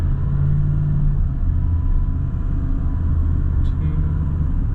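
A diesel L5P Duramax pickup pulls away in first gear at quarter throttle, its deep engine rumble steady and loud throughout with low harmonic drone, close and unbroken, no talk over it.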